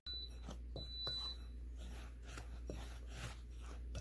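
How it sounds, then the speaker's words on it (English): A pancake maker in a home kitchen gives two short, high electronic beeps, one near the start and a longer one about a second later, over a low steady background hum. "The one that's beeping is our pancake maker."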